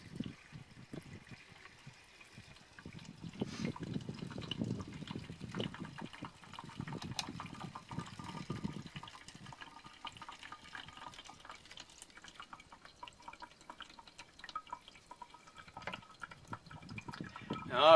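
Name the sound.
water poured through a DIY sand filter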